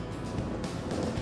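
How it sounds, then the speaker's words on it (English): A hopelessly underpowered Fiat Seicento engine drones in a thin, buzzy, steady hum that stays level and unbroken over a brief stretch, with no voices. "Oh, and one last thing about the hopelessly underpowered engine. It sounds horrible."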